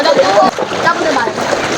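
Splashing and sloshing of deep floodwater during a rainy-season outing, with water churning steadily and a brief drop midway, under excited voices talking close by.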